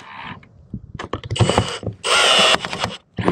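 Screw gun with an extension clicking as its clutch kicks in while driving metal roof screws: loud, close bursts of rapid mechanical ratcheting with short pauses between them.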